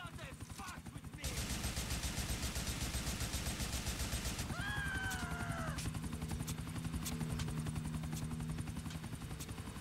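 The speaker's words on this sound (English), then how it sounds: "Well, that was easy to take down that chopper." In the PC game GTA 4, a helicopter's rotor beats steadily while rapid machine-gun fire rattles continuously, loud and close, with voices speaking over the chopper and shooting.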